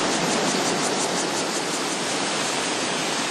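Wusha Creek waterfall in Neidong National Forest pours down rocky hills into rushing water, a dense, steady broadband roar close at hand with no voices.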